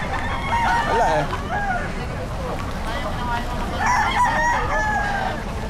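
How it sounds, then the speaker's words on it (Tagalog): Roosters crow repeatedly and chickens cluck amid a busy pet market in Bocaue, with a steady patter of rain and murmuring voices in the background. "Maraming manok mga kabossing."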